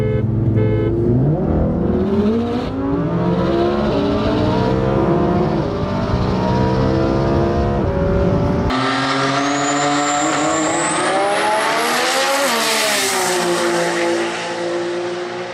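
Subaru WRX and STI cars roar past with loud, rising engine revs and gear changes, a dense continuous drone that shifts pitch abruptly partway through.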